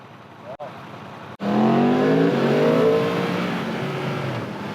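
A 2019 Yamaha R1 motorcycle's engine revs through a loud exhaust. After a short quiet stretch the roar bursts in close, climbing in pitch and then easing off while staying strong.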